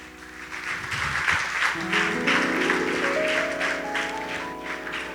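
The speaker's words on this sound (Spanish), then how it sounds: "Dale un fuerte aplauso al Señor, hermano." Church congregation applauding during a Lord's Supper service, steady many-handed clapping with a sustained organ or keyboard chord rising underneath.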